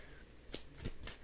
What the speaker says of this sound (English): I'm going to pull two cards.